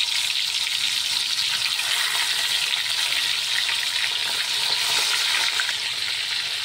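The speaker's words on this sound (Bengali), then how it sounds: "তেলটা গরম হয়ে গেছে, এই মাছগুলো এক এক করে দিয়ে ভেজে নেব।" Fish frying in hot oil in a home kitchen, a steady dense sizzle and crackle that holds loud and even throughout with no talking.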